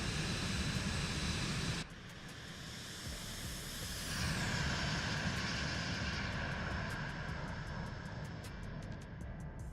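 A Vision Jet G2 climbing out in Microsoft Flight Simulator 2024, its steady engine roar and airflow filling the cabin continuously, with a brief dip and shift in tone partway through.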